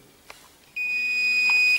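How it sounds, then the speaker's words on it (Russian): A breathalyzer used in a roadside check of a suspected drunk driver gives a faint click and then one sustained, high electronic beep lasting about a second as the result comes up. "Сейчас пикнет и покажет."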